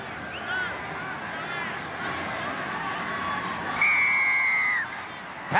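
A packed stadium crowd at a 1991 North Sydney Bears versus Western Suburbs Magpies rugby league match at North Sydney Oval roars steadily, with a rising burst of cheering and shrill whistles toward the end.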